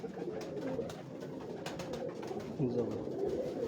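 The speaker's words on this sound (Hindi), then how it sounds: "ये जी हमारे प्रिंस कबूतर है जी, शहजादे कबूतर जी" Prince, or Shehzade, breed pigeons coo together in a close, steady low murmur, with a voice talking over the flock.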